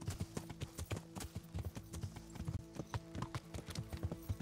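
Horse hooves clip-clop in a steady trotting rhythm in the medieval game Kingdom Come: Deliverance, close and regular, with a low droning hum beneath.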